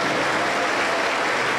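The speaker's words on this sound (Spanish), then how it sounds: "Un fuerte aplauso para el Señor Jesucristo." Steady applause from a Pentecostal church congregation in Junín, Peru, a dense, even wash of many hands clapping at close range for its full length, with no talk over it.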